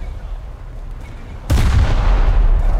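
An Italian premium battleship's main guns in War Thunder fire in a ripple, heard as a distant low rumble that gives way to a heavy, close boom with a long, loud roll that carries through to the end.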